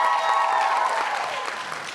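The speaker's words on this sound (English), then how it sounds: "Round of applause for Margot," An audience at a school public speaking contest claps for a birthday girl, a thick wash of applause that starts full and gradually thins and fades toward the end.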